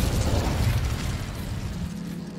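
An Incendio fire spell cast in Hogwarts Legacy, a brief whooshing burst of flame with a low rumbling roar that fades over about two seconds, no talk.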